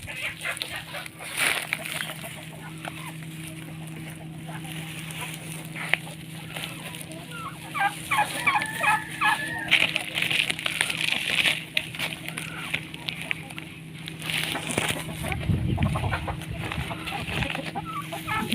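Free-range chickens cluck intermittently near a tarp-covered nesting spot, with a steady hum underneath and a thump near the end.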